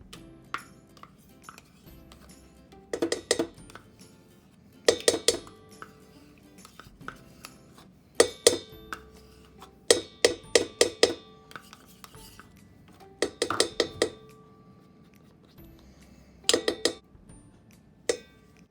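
Vitamin E cream and other moisturizer ingredients being mixed together in a container, heard as bursts of clattering, clinking tool-on-container strikes in irregular clusters with quiet pauses between, close and fairly loud.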